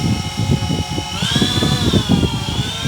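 Electric motors of an E-flite Twin Otter 1.4m RC plane whir steadily as the props switch between forward and reverse thrust, producing a continuous buzzing drone with a pitch shift partway through, close and loud.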